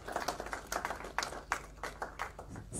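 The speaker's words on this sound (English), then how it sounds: "let us clap for them" Audience at an All Africa Conference of Churches gathering clapping for the conference staff, a moderately loud, uneven patter of many hands sustained throughout, with no talking over it.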